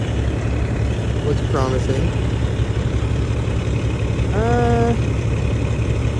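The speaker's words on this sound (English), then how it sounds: "Sorry about the truck noise." A truck engine runs nearby on a Lake Superior shoreline, a steady low rumble lasting throughout while a person talks briefly over it.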